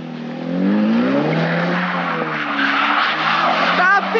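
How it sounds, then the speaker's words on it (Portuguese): A new car drifting hard, its rear tyres skidding and squealing in long continuous screeches over a steady engine roar, with excited voices shouting over it. "E fazendo drift com o meu carro, olha aí"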